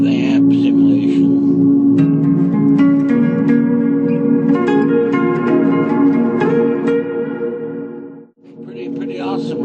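Electric guitar played through a Line 6 Pod Go with amp simulation switched off and reverb on, clean ringing notes and chords with long lush tails, dipping to near silence before a new phrase begins.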